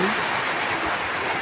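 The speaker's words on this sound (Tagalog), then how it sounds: "tingnan nyo, umuulan na naman" Rain falling outdoors as a steady, dense hiss, loud and unbroken through the whole short stretch, with no pauses or distinct drops standing out.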